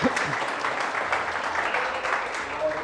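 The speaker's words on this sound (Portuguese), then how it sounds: "Aplauda o Senhor, queridos, que Ele é digno de honra, de glória, de louvor e adoração." A church congregation claps together during a Portuguese-language worship service, a dense, steady applause with a voice faintly mixed in.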